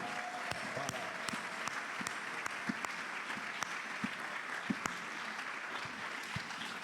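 A church congregation applauding, with dense, sustained clapping at a moderate distance that holds evenly throughout and no voices over it.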